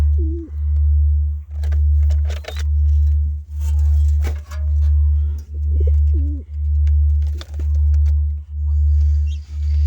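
Pigeons coo in a steady, evenly spaced series of deep, throbbing low calls, about one per second, loud and close, with faint chirps and scattered clicks in the background.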